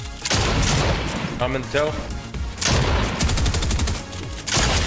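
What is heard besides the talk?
gunfire in the video game Fortnite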